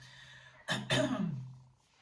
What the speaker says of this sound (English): So excuse my coughing and drinking in between conversation